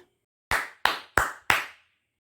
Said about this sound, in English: Let's clap 4 times for 4.